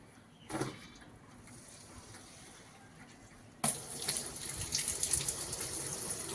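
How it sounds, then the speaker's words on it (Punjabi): Water rushes into a household washing machine, starting abruptly after a few seconds of near quiet and then holding a steady, hissing flow. "ਚਲੇ ਆਪਾਂ ਮਸ਼ੀਨ 'ਚ ਪਾਣੀ ਪਾ ਦਈਏ"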